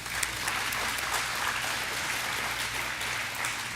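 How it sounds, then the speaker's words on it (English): Audience applause at an elementary school awards ceremony, a steady, dense wash of many hands clapping throughout, evenly loud with no pauses and no talking. "We can give him a round of applause."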